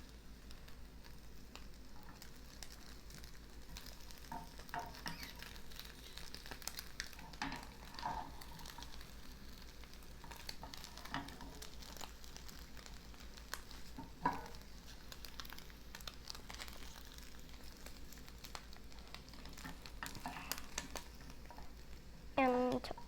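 Eggs frying in a pan give a steady low sizzle and crackle with occasional spatula scrapes, moderately quiet and continuous throughout.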